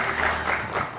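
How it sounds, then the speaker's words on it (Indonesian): Brief, dense applause from a television studio audience for a guest on an Indonesian talk show, steady and fairly close for about a second. "Kita berikan tepuk tangan untuk Pak Ugro Seno"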